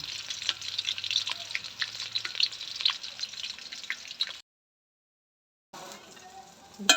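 Onions sizzling in a pan with oil, a dense crackling fry that stops partway and then resumes more softly, close and alone with no talking.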